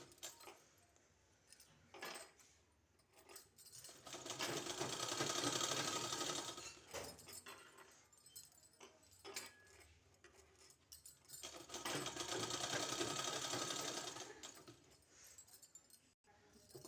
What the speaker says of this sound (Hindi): ये जो गले का है उसको इस तरह से इसमें गोलाई देते हुए सिलाई लगा लेना है।